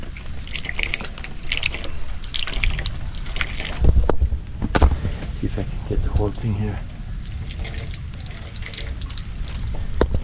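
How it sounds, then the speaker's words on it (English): Water splashes and trickles from an all-wooden sink fed by a foot-operated pump, with intermittent gushes and drips near the microphone while someone talks over it. "You pump your feet and water comes out"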